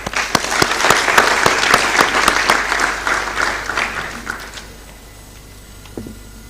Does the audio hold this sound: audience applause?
yes